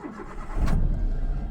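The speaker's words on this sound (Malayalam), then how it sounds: "ഇനി വാഹനം സ്റ്റാർട്ട് ചെയ്യാം." A small car, such as an Alto, Zen, 800 or WagonR with a power steering fault, cranks and catches, then settles into a steady nearby idle, with no talking over it.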